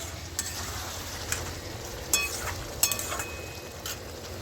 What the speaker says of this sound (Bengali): এবার আমি মাছগুলোকে দিয়ে দিচ্ছি। মাছগুলোকে দিয়ে একটু ভালো করে নেড়ে দিচ্ছি।